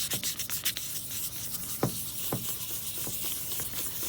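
A plastic headlight lens being sanded by hand with fine 1500-grit sandpaper, a close, rhythmic rubbing and scraping in repeated strokes with no talk.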